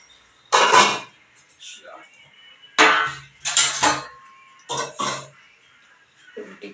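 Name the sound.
pot of dal lentils being set down to the side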